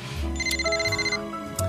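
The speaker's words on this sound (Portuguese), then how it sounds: "agora eu tenho que atender o telefone" A telephone rings in a dramatic indoor scene, a loud electronic ringtone of layered sustained tones and a short repeating melodic pattern, close by and heard alone.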